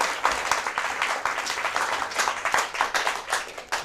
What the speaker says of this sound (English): A round of applause for SDA Academy.